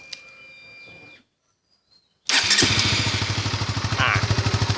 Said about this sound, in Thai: แล้วก็ลอง สตาร์ท เครื่อง ฟัง ลองดู ครับ